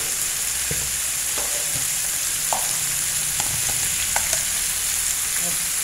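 Potatoes frying with tomatoes in a pan hiss in a loud, steady sizzle up close, broken by occasional soft stirring taps and scrapes, with no voices over it.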